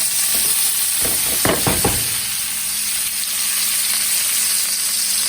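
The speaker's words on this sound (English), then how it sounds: "leave that grease in there and turn your stove on medium, because now you're going to saute your leeks" Leeks sauteing over medium heat in leftover bacon grease give a steady, close sizzle throughout, with a few louder stirring scrapes near the start.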